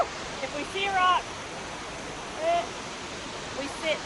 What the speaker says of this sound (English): The water's super loud.